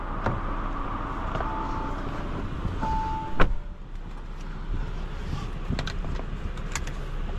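A 2025 Audi Q7 55 Prestige moving along the road, a steady muted drone of road and engine noise heard from inside the cabin, with a few small clicks and one brief thump partway through.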